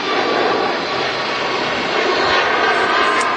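Boeing 737 Max jet departing an airport for Lisbon, its engines roaring loud and steady throughout with a broad, sustained rumble and no voices.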